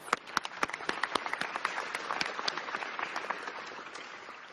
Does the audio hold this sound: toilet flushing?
no